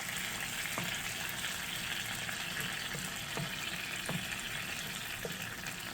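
Vegetable broth simmers in a pan with roasted Italian long hot peppers, giving a continuous, close, even sizzling hiss with occasional faint pops and light ticks, and no talking.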